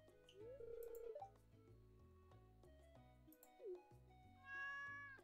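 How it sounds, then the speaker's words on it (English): A cartoonish cat meows from the Stardew Valley farming game, with three distinct rising, tonal mews spread across the moment over soft game music, loud and close, with no talking. "Yes, I see the cat. He's cute."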